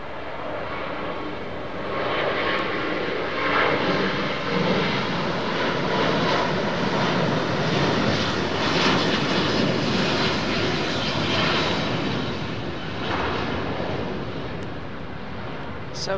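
A Virgin Atlantic Airbus A350-1000 airliner with Rolls-Royce engines passing near Heathrow Airport, London, a steady loud roar that swells slightly midway and holds throughout, with no talk over it.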